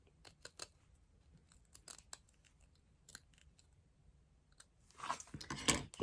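Small scissors snip a U-shaped cut near a light bulb in a series of quiet, separate snips, ending in a louder burst of crunchy cutting close to the microphone.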